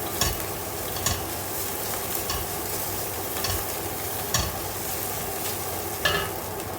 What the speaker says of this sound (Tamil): சிறிதளவு பெருஞ்சீரகம் போட்டு தாளிப்போம்